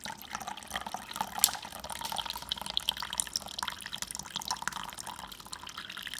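Water poured from a cup over a moss pole on an indoor houseplant, a continuous close splashing trickle with scattered drips running throughout.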